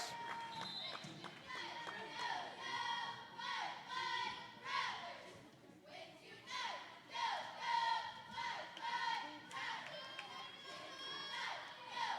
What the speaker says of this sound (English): Good home crowd on hand for the Lady Rattlers for some Tuesday night volleyball action.